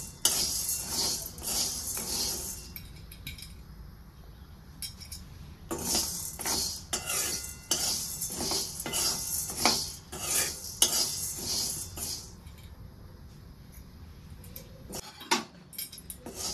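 Sago pearls heat in a dry pan for a fasting dish while a metal spoon scrapes and clinks against the pan in repeated bursts, close and fairly quiet, with no talk.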